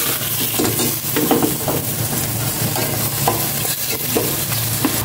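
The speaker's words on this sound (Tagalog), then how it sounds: "Ilagay ko na itong chicken para manisa na rin." Chicken pieces sauté in a hot pan with a continuous loud sizzle, and a utensil stirs and scrapes intermittently against the pan close up, with no talking.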